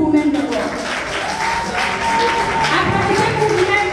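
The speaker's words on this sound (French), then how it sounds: "Applaudissez pour vous-même d'abord." Applause from an audience at a youth menstrual hygiene awareness campaign event, a steady wash of clapping lasting throughout, with voices and crowd noise mixed in.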